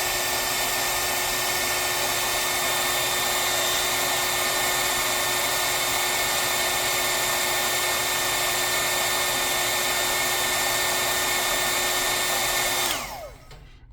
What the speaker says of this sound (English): there we have it, the good old blow dryer test